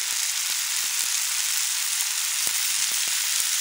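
Ghee hitting cabbage ghonto in a pan, giving a loud, continuous bright sizzle with small spoon clicks and stirring taps scattered through it, no voices.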